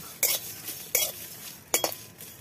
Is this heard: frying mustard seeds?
yes